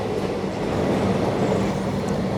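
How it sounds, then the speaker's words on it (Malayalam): An 18-coach Express MEMU passenger train pulls into a station, a steady, close, broadband rumble of rolling coaches and wheels that carries on without pause. "എക്സ്പ്രസ് മെമു അങ്ങനെ കയറി വന്നു"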